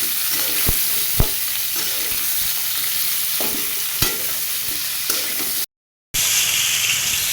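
Onion, drumstick stems and potato hiss and sizzle steadily in hot oil in a pan, with several sharp clacks of a spatula stirring against the pan, close and loud, and a brief dropout near the end.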